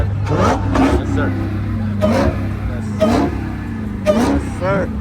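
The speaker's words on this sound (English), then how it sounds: "Hellcats are revving" Dodge Hellcat cars revving their engines at a nighttime car meet: several loud bursts of revving rise and fall at intervals over a steady engine rumble, with people talking nearby.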